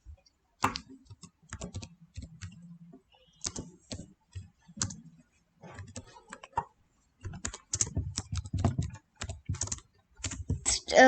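Computer keyboard typing while text is entered into PowerPoint slides, heard as close, crisp key clicks in irregular bursts separated by short pauses.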